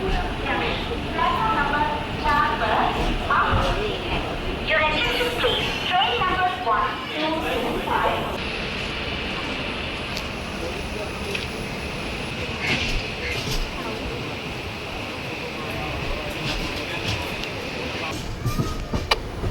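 A train stands at Kayamkulam railway station in Kerala, its low rumble and clanks steady beneath someone talking for most of the stretch.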